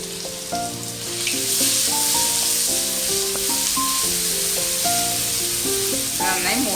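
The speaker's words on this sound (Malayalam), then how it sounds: "എന്നിട്ട് നമ്മൾ എടുത്ത് വെച്ച നമ്മുടെ ജിഞ്ചർ ഗാർലിക് പേസ്റ്റ് ഇതിലേക്ക് ഫസ്റ്റ് ഇട്ട് കൊടുക്കാം" Ginger garlic paste sizzles in hot oil in a pan over a low flame for masoor dal, a steady hissing fry heard under tuneful background music throughout.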